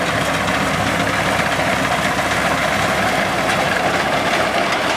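A tractor engine runs steadily during a wheat harvest in a hilly farming area, with a continuous low rumble and a dense mechanical drone that holds at an even level throughout.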